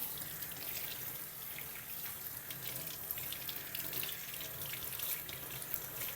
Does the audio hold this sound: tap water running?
yes